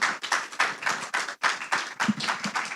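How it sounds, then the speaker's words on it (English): Conference workshop audience applauding panelists, a steady run of close, crisp hand claps in uneven bursts that fill the whole stretch. "Can I ask for a round of applause, please, for our fantastic panelists?"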